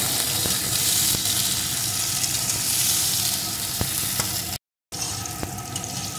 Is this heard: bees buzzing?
no